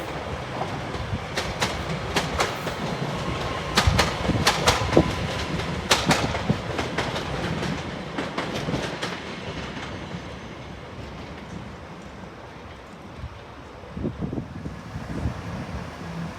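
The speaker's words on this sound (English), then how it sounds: "Here's a fast train running the Island Chieftain London King's Cross to Inverness and the 1226 Northern Train service" At Doncaster station a fast train rolls through, likely the London King's Cross to Inverness service, with a sustained rumble, rhythmic clickety-clack of wheels over rail joints, and sharp metallic clicks, fading slowly while wind buffets the microphone.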